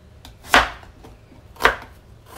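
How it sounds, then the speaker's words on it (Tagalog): A knife chops fish into small pieces on a board, two sharp, close chopping strokes about a second apart with quiet between them. "Ayan guys, hiwa-hiwain lang natin to ng maliliit."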